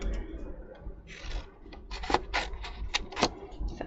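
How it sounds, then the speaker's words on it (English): Paper being trimmed for a craft project, a close series of soft rubbing, scraping strokes and sharp little snips or clicks, irregular and quiet, with no talking. "I'm going to trim that down a bit."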